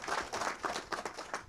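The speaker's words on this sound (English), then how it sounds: "Let's give a round of applause to those that made this possible." Audience applause at Governor Bobby Jindal's press announcement of the False River restoration project, a moderate round of many hands clapping with distinct individual claps pulsing through, heard from some distance.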